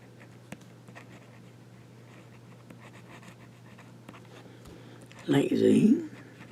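Esterbrook Estie fountain pen with its nib reversed scratches across paper, a soft continuous scritching that lasts about a second near the end, close and fairly quiet over a low steady hum.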